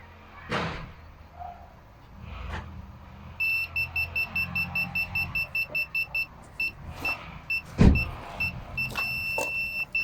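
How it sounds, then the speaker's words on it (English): A car put into reverse gear while a parking sensor system is tested gives a steady series of electronic beeps in quick rhythm, with a low car hum and a few clunks underneath. Nobody speaks. "Now I will put a car in reverse gear to check everything."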